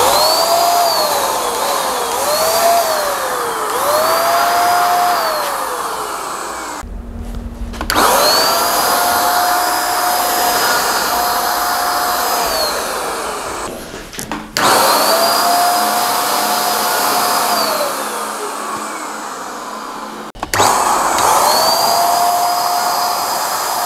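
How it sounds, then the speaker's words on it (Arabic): An electric paint spray gun sprays disinfectant inside a car, a loud, close motor whine whose pitch rises and falls in sweeps, cutting off and restarting several times in bursts. "خلينا نشوف بقى ممكن جوه العربية بقى ونلعب بيه شوية ونرش كده"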